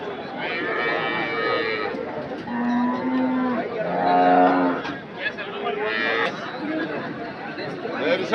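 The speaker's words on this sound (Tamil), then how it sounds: "இந்த மாடு வரப்புக்கேற்ற அட்டகாசமான மாடு" Cattle at a Sunday livestock market in Anthiyur give several loud, drawn-out moos in succession, close by, over a steady murmur of crowd chatter and people talking.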